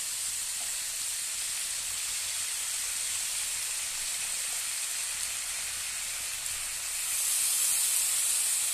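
Washed pumpkin stalks and pumpkin leaves sizzling in a hot pan, a steady broadband hiss and crackle that grows louder and brighter toward the end, close and with no talk.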